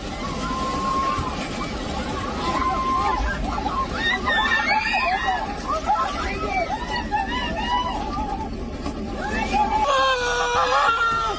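Panicked screams and shouting from many people fill a noisy scene during an earthquake as buildings collapse, high wavering cries over a dense babble of voices and rumbling noise.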